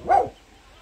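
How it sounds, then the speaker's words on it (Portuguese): A single short dog bark, fairly close, followed by faint background hum. "É o latido dela, agora é feio, ó."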